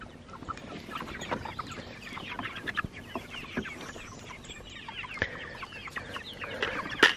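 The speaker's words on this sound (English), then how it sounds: "These are Freedom Ranger meat birds." Freedom Ranger meat chickens cluck and chatter steadily through the stretch, many birds overlapping at moderate volume with sharper calls popping up now and then, outdoors with no talk.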